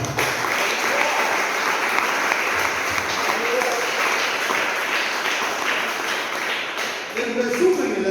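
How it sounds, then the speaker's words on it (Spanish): Strong applause from a church congregation during a sermon, a dense, steady wash of clapping that runs throughout, with faint voices rising near the end. "Denle fuerte el aplauso al Señor."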